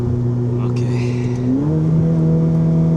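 A Ferrari engine downshifting on a road drive: a loud, steady droning note inside the cabin drops in pitch partway through as the gear changes, with a faint voice underneath.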